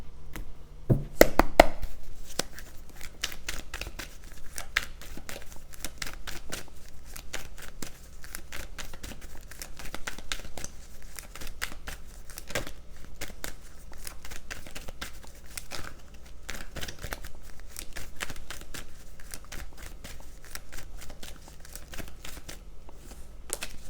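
Tarot cards being shuffled by hand in a steady, crisp patter of quick riffling flicks, close and fairly quiet, with a denser burst near the start and no talking.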